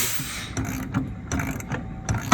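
A ratchet wrench tightens the caging bolt on a brake can in short, quick bursts of metallic clicking, close and crisp, with brief pauses between strokes.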